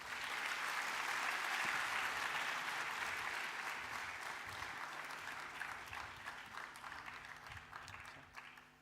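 A crowd applauds steadily for several seconds, dense clapping that holds loud and full before easing slightly toward the end.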